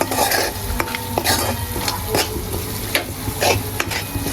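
Peanut bhajiya curry with red chili powder, stirred in a hot pan: a loud, close sizzle with rhythmic spoon scrapes and a few metallic taps, no voices.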